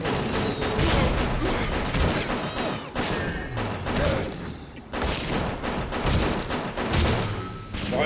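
Gunfire in the video game Bioshock, a rapid, dense volley of shots that is loud and continuous with brief gaps, in a close, cluttered game mix.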